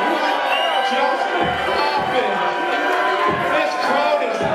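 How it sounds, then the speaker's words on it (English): A wrestling crowd roars and shouts without letup, a dense, loud wall of cheering and yelling with scattered individual voices rising above it. "This crowd is mad."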